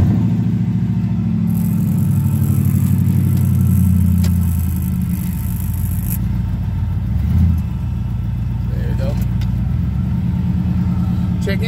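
Engine of a 2004 LX Sport car with raised ride height runs in a loud, steady low rumble close by, with a brief swell near the middle and a little speech faintly underneath.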